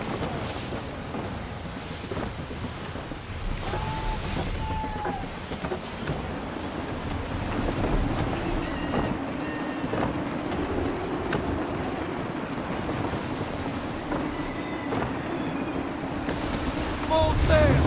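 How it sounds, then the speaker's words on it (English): In Assassin's Creed III, a sailing ship rides the open sea through gusty wind, with a constant roar of wind and rushing waves, low rumbling swells, and faint distant shouted voices over the top. "Gusty winds can be difficult to manage."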